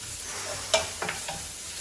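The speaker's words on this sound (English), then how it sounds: "So I'm adding the grated ginger and garlic and just cook it for a minute." Grated ginger and garlic frying in butter make a soft steady sizzle, broken by a sharp clink and a couple of quick stirring scrapes, close by, with no voices.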